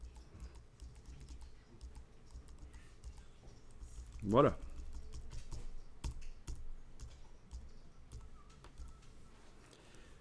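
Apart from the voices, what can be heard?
computer keyboard arrow keys being pressed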